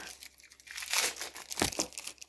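Paper candy wrapping crinkles and rustles close by as it is cut open and unwrapped, in irregular bursts of crackling that swell and fade over a couple of seconds, with no talk.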